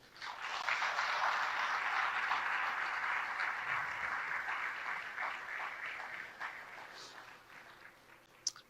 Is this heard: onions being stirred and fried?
no